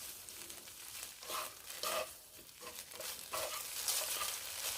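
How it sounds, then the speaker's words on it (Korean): Namul stir-fried in a pan with soy sauce and a spoonful of minced garlic, giving a soft, steady sizzle with intermittent scraping stirs and patters throughout. "마늘과 간장을 넣고 이렇게 충분히 볶아줍니다."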